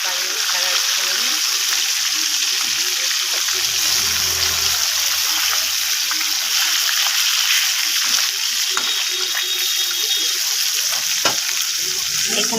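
Pieces of katla fish fry in hot oil with a steady, close sizzle and crackle that holds for the whole stretch, marked by occasional sharper pops and spatters.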